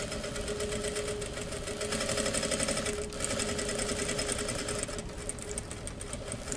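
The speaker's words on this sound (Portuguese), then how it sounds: "vou vir e passar a costurinha" A sewing machine runs steadily, stitching plastic bag material with a fast continuous whirring chatter, close and constant, with a brief dip in pace partway through.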